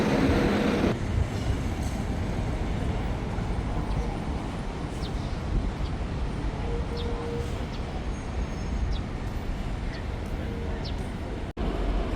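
Busy evening ambience at Nagasaki train station, Japan: a constant rumble and hum of rail traffic with faint chatter and occasional clicks in the background.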